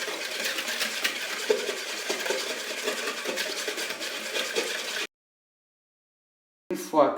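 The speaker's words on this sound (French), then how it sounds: "il faut blanchir les œufs avec le sucre" Eggs being beaten with sugar for a chocolate cake batter: a continuous scraping, clinking whisk against a bowl for about five seconds, then silence, then a brief louder knock at the end.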